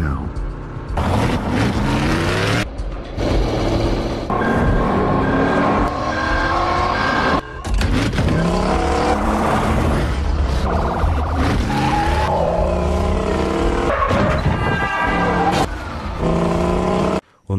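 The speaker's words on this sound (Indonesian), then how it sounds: "Gray bisa menyingkirkan Cortez dengan bantuan stem mengendalikan mobil lainnya" Cars roar and rev through a film chase scene, engines loud and continuous with passing bursts and mechanical clatter, while voices talk over the action throughout.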